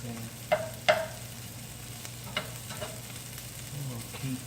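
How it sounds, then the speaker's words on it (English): Small pieces of breakfast food frying in a pan give off a steady soft sizzle with a few sharper pops and stirring scrapes, fairly faint, with no talk. "I'm gonna keep on frying them, put a little salt."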